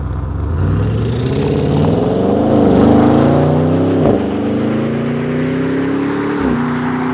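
An Audi RS 6 wagon drives on the road, its engine droning loudly and steadily from inside the cabin, pitch rising and dipping with gear changes and throttle, with no talking.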